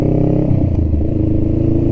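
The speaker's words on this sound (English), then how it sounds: "It had already had the exhaust replaced, as you can hear on here. This is the Vance & Hines." A Honda Rebel 500 motorcycle fitted with an aftermarket Vance & Hines exhaust idles with a deep, loud, throbbing burble and a brief blip of the throttle, close and with no voices.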